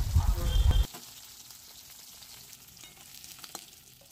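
Fish frying in oil in a kadai for an Assamese tenga dish: a loud dense sizzle for under a second, then it cuts off, leaving a faint background hiss and a few small clinks.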